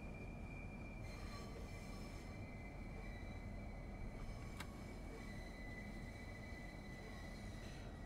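A high-speed Southeastern passenger train in the Train Sim World 3 game rumbles steadily near St. Pancras International, a constant low rolling drone with faint wheel squeal tones and one sharp click, no talking.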